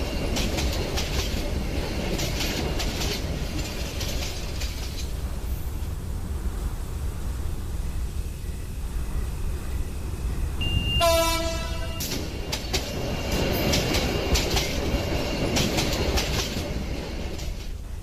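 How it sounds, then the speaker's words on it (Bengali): A cartoon train pulls into a station with a steady rumbling roll throughout, broken midway by a loud, brief horn blast, then the rumble continues. "আবার হর্ন বাজিয়ে ট্রেনটি হাসিলপুর স্টেশনে এসে থামল।"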